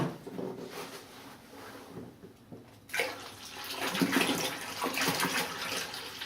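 About 0.8 gallon of water being poured into a toilet tank, with quiet clatter at first and then a steady, close splashing pour that continues to the end.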